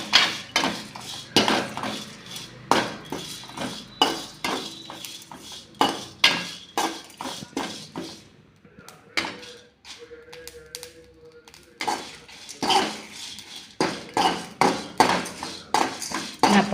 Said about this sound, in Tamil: எண்ணெய் ஒரு துளி கூட இல்லாமல் வெறும் வடைச்சட்டியில் தான் வறுக்கணும்.